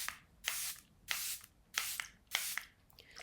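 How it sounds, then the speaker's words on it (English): Charlotte Tilbury makeup setting spray misted in five short, even hissing bursts spaced about half a second apart, close and clear with no talking over it. "And then I'll use some of my setting spray from Charlotte Tilbury."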